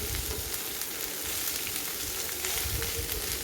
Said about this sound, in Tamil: எண்ணெய் வெங்காயம் பாகற்காய் ரெண்டும் சேர்ந்து நல்லா வதங்கட்டும்